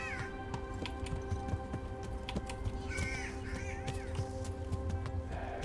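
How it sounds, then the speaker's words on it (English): Harsh, croaking bird calls in the medieval open-world game Kingdom Come: Deliverance, a few raspy cries standing out over a steady ambient bed of forest and game sound, with no talking. "Some god awful bird noises."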